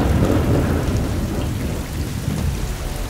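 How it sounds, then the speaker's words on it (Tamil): Heavy rain pours steadily with deep rolling thunder booming beneath it, loud and continuous, with no voices present. "அப்ப ஊர்ல பெரிய மழை,"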